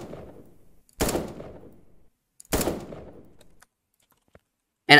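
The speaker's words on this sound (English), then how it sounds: "I'm going to be shooting this guy." Two loud, sharp gunshots from a shooter game, about a second and a half apart, each followed by a short decaying echo, with a third shot beginning at the very end in an otherwise quiet scene.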